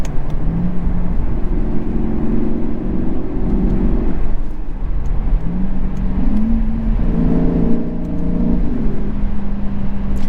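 The 2022 Lexus IS500's engine accelerates through the gears with loud rising pitch sweeps, a brief dip between pulls and then another climb, under heavy road and wind noise from inside the car.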